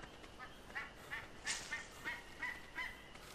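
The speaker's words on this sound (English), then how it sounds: "There's a duck, apparently." A duck in the survival video game Ark Survival Evolved calls with a series of faint, nasal honking quacks, roughly eight short bursts at an uneven pace over a quiet background.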